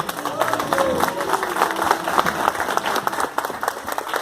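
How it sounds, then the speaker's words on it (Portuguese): Church congregation applauding Jesus during a Portuguese-language worship service, steady massed clapping with some crowd noise throughout, and a preacher's voice faintly mixed in. "Aplauda Jesus, igreja."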